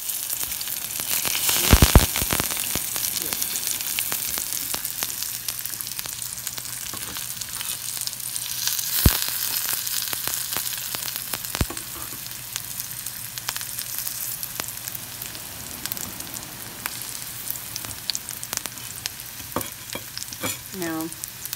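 Coral mushrooms (ramaria) fry in a pan with a steady, close sizzle as they are flipped, with a few sharp clatters near the start and one around the middle, then an even crackle continuing to the end.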